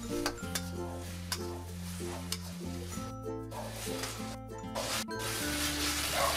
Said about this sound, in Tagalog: Ilagay ang patatas at haluin saglit.